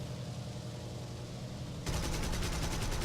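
A four-cannon aircraft fires in a War Thunder arcade battle. A steady engine and wind drone gives way partway through to a loud, rapid, continuous burst of cannon fire that runs to the end, with no talking.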